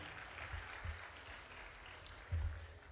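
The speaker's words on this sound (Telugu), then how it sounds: "డాక్టర్ బిఆర్ అంబేద్కర్ గారికి మనం అందరం ఒకసారి గట్టిగా చప్పట్లు కొట్టాలని కోరుకుంటున్నాం" Dense, fairly faint clapping from an audience at a Gurukula awards ceremony, honoring Dr. B.R. Ambedkar, with a few louder swells in a steady patter.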